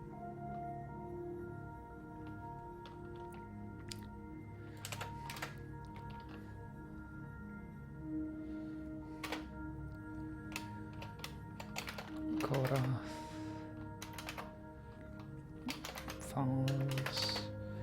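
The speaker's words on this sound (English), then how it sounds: "you will fall asleep to the clickering of my keyboard" Computer keyboard typing, soft quiet clicks in scattered bursts under a steady low background hum, fairly close.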